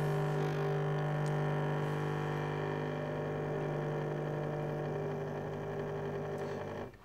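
A Nespresso Vertuo coffee machine brewing, giving a steady close mechanical hum and whir with a constant low tone that runs unbroken before fading out at the very end.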